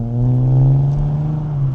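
A Nissan Z car engine pulls a steady, loud low drone with a slowly rising pitch, close and continuous without any voices, as the car accelerates on back roads.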